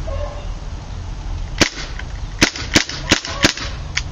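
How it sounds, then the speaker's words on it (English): A KWA MP7 gas airsoft gun dry fires, starting with a single sharp crack and then a quick run of four snapping shots, loud and close over a low background hum. "I'm going to go ahead and dry fire out all the gas"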